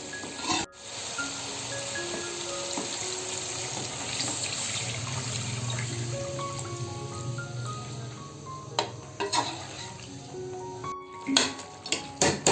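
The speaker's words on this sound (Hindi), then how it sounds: "अब इसमें हमने पानी को शामिल करना है।" Water pours from a tap into a pot of rice being cooked for biryani, a continuous splashing and gurgling fill that runs close and steady, then breaks into a few louder sloshes and clinks toward the end.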